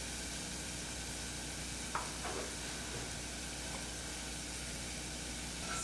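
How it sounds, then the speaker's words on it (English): Curry paste with saffron for Trini vegetable rice is stirred in a pot, a soft continuous sizzling hiss with a few faint scraping touches, steady and low in level throughout. "Stir that around."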